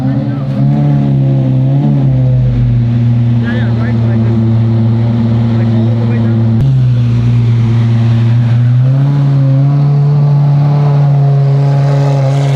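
Supercar engines rev and idle loudly up close before heading out on the road, with a deep steady droning growl that climbs in pitch midway and then holds high, and people talking underneath.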